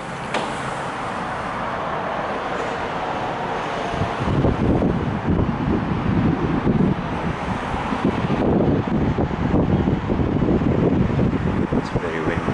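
Strong wind buffets the microphone on a high-rise apartment balcony in a continuous rumbling roar, gusting harder partway through.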